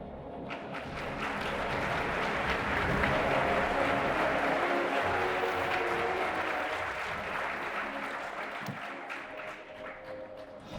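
Sustained applause from an auditorium audience at a closing ceremony, swelling to a steady roar of many hands clapping for awardees before easing off slightly toward the end.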